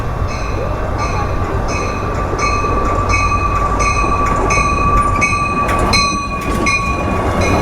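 Amtrak San Joaquin passenger train arriving at a station, a loud steady rumble with rhythmic high squealing and clanking as it rolls close by.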